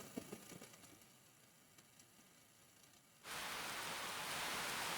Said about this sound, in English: A gentle rain begins to fall.